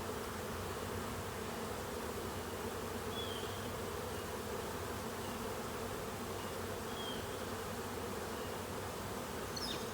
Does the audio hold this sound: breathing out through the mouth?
no